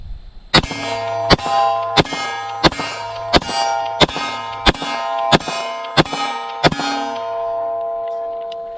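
A Glock 19 pistol fitted with a Cross Armory Legion slide fires ten shots in a steady rhythm about two-thirds of a second apart, each sharp crack followed by a ringing metallic tail, near and loud with no talking.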